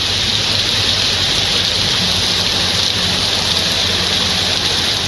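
Heavy rain falls in Perambalur district during a thunderstorm, giving a steady, dense hiss throughout with no breaks. A faint low rumble sits beneath the downpour.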